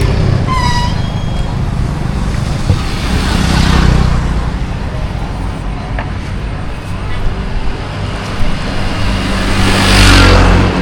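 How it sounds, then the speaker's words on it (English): Cars and motorbikes pass along a street in Pailin, Cambodia, a loud, rumbling traffic wash with engines swelling near and fading, a short horn toot near the start, and speech mixed in. "Cars and motorbikes."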